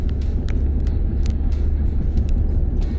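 A 2018 Lincoln Navigator SUV cruises along with a steady low road rumble and muted engine drone from inside the cabin, with faint intermittent ticks over the continuous hum and no voices.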